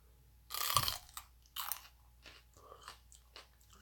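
Crunchy bites into a fresh sweet pepper: one loud, close snap of a bite, followed by a few softer chewing crunches.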